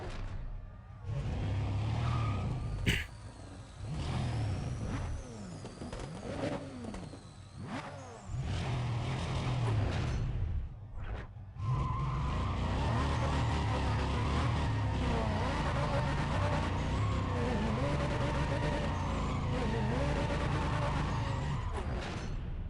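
Drag race car engine in Need For Speed ProStreet, revving and pulling through rising gear sweeps, dropping briefly to near quiet mid-run, then returning loud and sustained at high revs.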